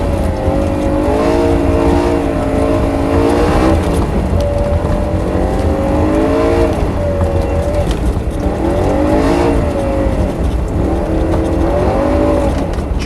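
A rear-wheel-drive car drifting on a low-grip surface, the engine droning and rising and falling steadily with the throttle, heard loud and continuous from close by, likely from inside the car.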